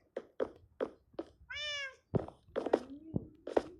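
Several cats meow in quick succession at close range, short calls broken by one longer drawn-out cry, with a soft thunk among them in an otherwise quiet night setting.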